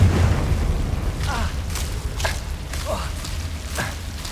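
Booming magical blasts from the Confringo fire spell in the game Hogwarts Legacy, several whooshing bursts at roughly regular intervals over a low rumbling game soundtrack.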